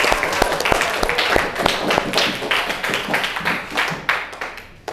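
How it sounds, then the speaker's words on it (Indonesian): A class of students claps their hands together, loud and close, with sharp uneven claps for several seconds before tapering off. "Boleh tepuk tangan lagi buat kalian semua."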